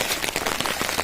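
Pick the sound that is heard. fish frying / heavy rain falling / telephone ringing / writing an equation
heavy rain falling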